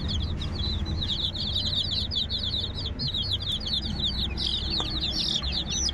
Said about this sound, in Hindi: सभी चूजे काफ़ी एक्टिव है